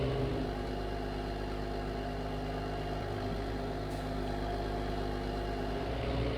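A McCormick tractor engine idles steadily in Farming Simulator 22, a continuous low mechanical drone with a constant level and no revving throughout.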